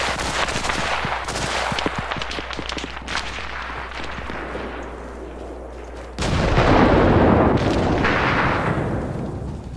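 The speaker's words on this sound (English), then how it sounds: "he's throwing nades" Grenade explosions and gunfire in the video game Arma Reforger: rapid cracking shots and rumbling blasts, then a loud sustained explosive roar near the end.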